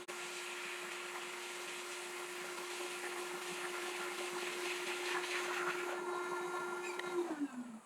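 Air cooling unit for a picosecond tattoo removal laser blowing cold air, a steady loud whooshing fan roar with a constant hum that holds throughout, then winds down slightly near the end.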